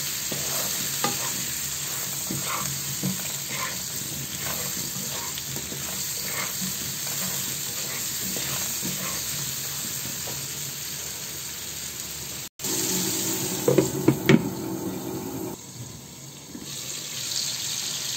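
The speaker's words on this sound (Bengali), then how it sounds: "প্রথমে আমি দিলাম পটলটা, কারণ পটলটা হতে একটু সময় লাগে, এই কারণে পটলটাকে আগে একটু ভেজে নেব।" Pointed gourd (potol) frying in oil in a pan, a dense hissing sizzle broken by scraping stirs and clinks; partway through the sizzle cuts off and a brighter clattery stir takes over.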